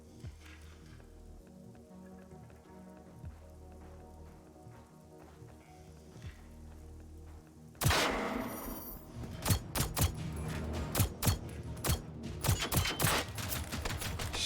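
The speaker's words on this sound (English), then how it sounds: "I'm gonna use my silence gun." Silenced gunfire in the Generation Zero video game: after a quiet stretch of ambient game sound, a burst of sharp muffled shots starts, with rapid repeated cracks that keep going close and fairly loud over a busy background.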